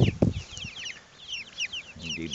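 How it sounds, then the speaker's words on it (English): Chickens in a coop give short clucks and chatter, brief and fairly close, with a burst of low voice-like sound at the start and end. "Here's my chickens."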